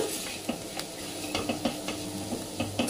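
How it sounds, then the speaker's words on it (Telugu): Beetroot fry is stirred in a pan over a gentle sizzle, with a spoon scraping and tapping the pan in an irregular rhythm, close and without talk. "మంచిగా కలుపుకొని స్టవ్ ఆఫ్ చేసేసుకోండి"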